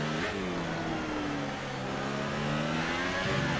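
A Formula 1 car engine in the racing video game F1 2018, a Renault in career mode, drones loud and steady with pitch rising and falling as it accelerates and shifts.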